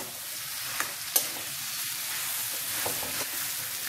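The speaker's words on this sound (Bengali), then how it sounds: "এবার আলুটা দিয়ে দিচ্ছি এবার ওভেনটা বাড়িয়ে দিয়ে এটা মেশাবো" Potato is stirred into spices in a hot frying pan for spicy aloo chop filling, a close steady sizzle with a few sharp spatula scrapes and clicks.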